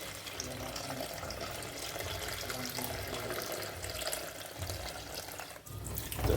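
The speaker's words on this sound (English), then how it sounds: "add some water" Water running steadily from a tap into a container while cooking jerk chicken, a continuous splashing flow heard close up, changing slightly in tone near the end.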